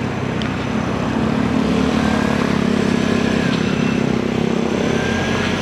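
A 2024 Vespa Primavera scooter hums steadily on a night ride, its engine drone loud and constant alongside rushing wind noise throughout.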